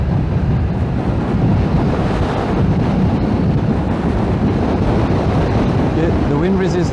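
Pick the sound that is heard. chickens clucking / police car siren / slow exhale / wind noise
wind noise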